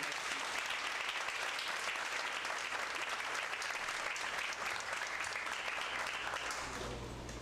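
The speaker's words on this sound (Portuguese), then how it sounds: "Uma salva de palmas." Full, steady applause from a university lecture audience during an accounting week event, continuous and even for several seconds before easing slightly at the end.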